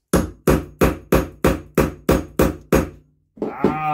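A punch is hammered through the petrol tap of a BSA engine in nine sharp, evenly spaced metallic blows, loud and close, before the blows stop and a brief clatter follows.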